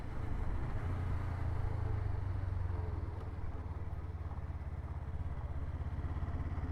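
A 250cc twin-cylinder Suzuki Inazuma 250 motorcycle engine runs smoothly in fourth gear, giving a steady, close, low droning hum with an even rumble and no breaks for the whole stretch.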